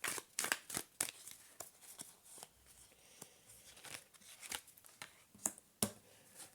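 Tarot cards being drawn and handled, a run of quick, soft papery snaps, riffles and shuffles close by, irregular and fairly quiet, with no voice over them.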